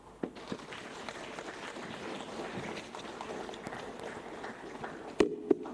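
An audience at a symposium marking the 23rd anniversary of Mwalimu Nyerere's death claps steadily, a moderate, even wash of applause with a couple of sharper claps near the end.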